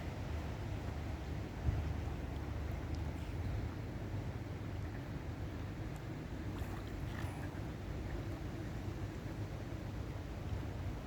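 Strong, cold, dry wind blows beside a canal, a steady broadband rush and rumble buffeting the microphone for the whole stretch, with no talking.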